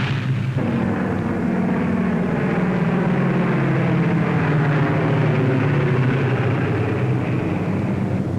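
A formation of B-17 bomber aircraft flies on a raid, heard as a loud, continuous low droning roar of many piston engines that hangs steady throughout.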